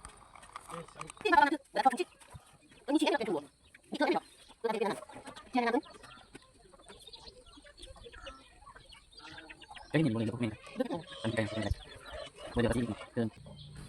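Chickens clucking in short bursts, with a person talking intermittently nearby; sounds come in clusters separated by brief pauses.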